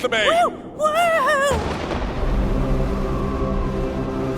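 After a burst of wobbly whistling tones, a cartoon explosion booms and gives way to a low, rumbling roar that fades slowly.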